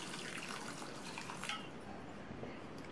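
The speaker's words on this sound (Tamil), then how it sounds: "காய் முங்குற அளவுக்கு தண்ணி சேர்த்துக்கோங்க." Water pours steadily into a cooking pot holding cut snake gourd with turmeric, sambar powder and salt for kootu, a constant close splashing gush with no talk.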